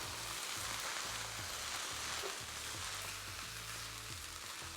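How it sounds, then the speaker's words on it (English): Chicken fried rice frying in oil in a pan, a quiet, steady sizzle with a faint rhythmic tapping underneath as it is flipped, no voices. "Just gonna let it fry and keep flipping it."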